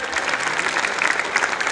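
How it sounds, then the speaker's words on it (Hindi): Audience applause at a preschool annual event, a dense, steady clapping from a crowd lasting a couple of seconds, close and fairly loud with no voices over it. "एक बार जोरदार ताली हो जाए."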